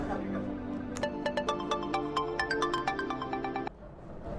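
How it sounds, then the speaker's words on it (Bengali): A mobile phone ringtone plays a bright, repeating electronic melody in quick pulsed notes over a steady low tonal background, then cuts off abruptly near the end. "ধরেন মা, ফোনটা ধরেন"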